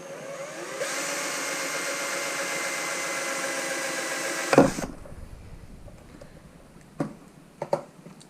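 A small drill with a 1.5 millimetre bit whirs steadily for a few seconds while drilling a motorcycle carburettor slide, then stops with a clunk, followed by a few light taps and knocks nearby.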